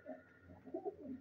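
A cross-bred high-flyer pigeon, a favourite bird of Kabli and striped parentage, gives a soft, low, rolling coo, faint and close, with no talk over it.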